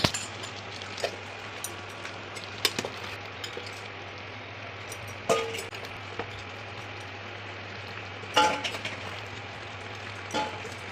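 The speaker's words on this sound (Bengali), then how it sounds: "এই একটা একটা করে উঠিয়ে নিচ্ছি ডিম ভাতে থেকে" Hard-boiled eggs being lifted one at a time out of a pot of cooking rice: sparse, faint clinks and taps of a spoon against the pot over a steady low simmering hum, with several distinct knocks spaced seconds apart.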